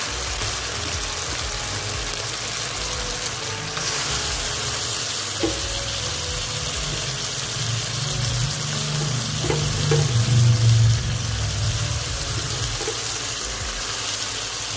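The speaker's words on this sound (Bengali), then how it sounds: "এরপর এর মধ্যে দিয়ে দেব নুন হলুদ মাখানো প্রন।" Prawns coated in salt and turmeric fry in a spice masala with sour yogurt, a continuous close sizzle with stirring and a few soft clinks partway through.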